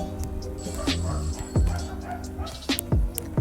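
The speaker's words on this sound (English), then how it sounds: "That's my dogs." Several dogs bark and yip nearby in short, sharp bursts, with a few louder barks standing out over a steady indoor background.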